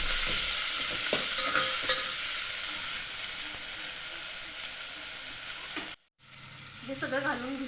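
Veg paneer Maggi noodles being stirred in a hot pan, giving a steady close sizzle with scraping spoon strokes, a brief cut to silence near the end, then softer frying.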